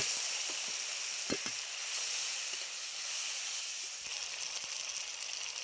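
Ground spice paste sizzling in hot mustard oil, in a pan where fish was fried, for a freshly caught pond-fish curry: a steady, soft, even hiss with a few faint clicks and pops, no talk.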